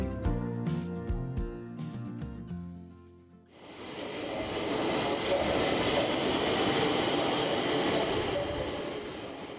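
Stockholm metro train in its station, a rising roar of rolling wheels and rumble that swells in after a brief stretch of music and stays loud and sustained to the end.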